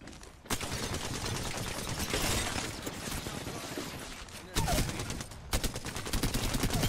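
Rapid bursts of gunfire in the battle royale game Apex Legends, a sustained dense barrage with several sharp volleys toward the end, loud and close throughout.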